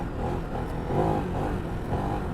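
A Ducati DesertX motorcycle engine drones loud and close as the bike rides off-road on sand in rally mode, a continuous rumble with slight rises in revs.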